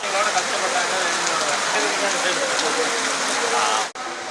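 Heavy rain falls on the Sabarimala pilgrimage hill, a loud, even roar of downpour that runs unbroken for several seconds, with a brief dropout near the end.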